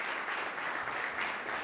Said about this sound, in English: Let's give Mario Vargas Llosa a round of applause